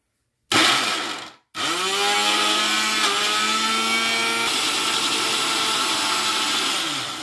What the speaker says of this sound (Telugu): అలా మిక్సీ చేసుకుందాం